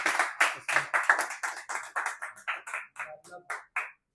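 A small audience claps after a performance, each clap sharp and separate in a loose, quick run that thins toward the end and stops, heard fairly quietly in a room.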